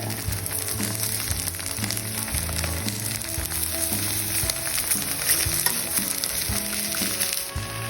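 Sukiyaki ingredients are stir-fried in a pan with a constant loud sizzle and scraping stirs, while music plays underneath.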